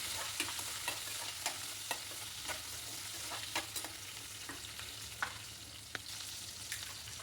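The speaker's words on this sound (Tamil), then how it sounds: "சின்ன வெங்காயம், பூண்டு, கருவேப்பிலை எல்லாமே சேர்த்து நல்லா வதக்கி விட்டுருங்க." Shallots, garlic and curry leaves sautéing in hot oil, a continuous soft sizzle broken by light, regular spoon taps and stirs against the pan.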